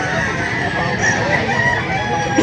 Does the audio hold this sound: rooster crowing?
yes